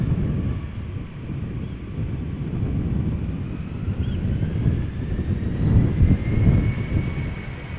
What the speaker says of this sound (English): This is an Embraer 195, not an E295 195, but a normal 195 going to Warsaw.